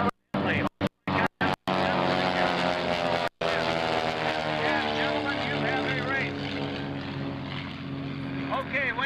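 Unlimited propeller air racers of about 2,000 horsepower at the 2003 Dayton airshow racing demonstration: a loud roaring engine drone passes close with rising and falling pitch, under intermittent commentary over a public address.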